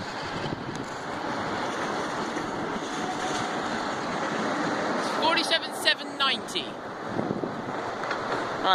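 A steady rumbling roar of a train passing Thorpe Junction at a distance, with wind noise, and a voice speaking briefly near the end.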